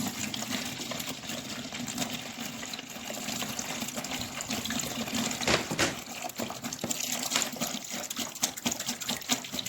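Water gushes steadily and close from a 2.5-litre bottle into a container while homemade dish soap is being mixed, a continuous, fairly loud pour throughout.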